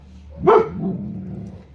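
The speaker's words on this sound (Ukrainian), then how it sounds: "не гавкай" A dog gives one sharp, close bark followed by a short trailing growl or whine, with quiet surroundings.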